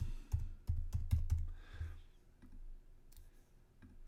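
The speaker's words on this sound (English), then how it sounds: "So we can go ahead and click proceed" A quick run of sharp mouse clicks while a software confirmation dialog is handled, close and distinct, in an uneven cluster of about six taps followed by a few fainter clicks.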